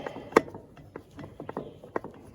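Small stainless steel screws being backed out of a trailer light's front cover with a Phillips screwdriver, giving a few sharp close clicks and light mechanical ticks spread irregularly over a couple of seconds.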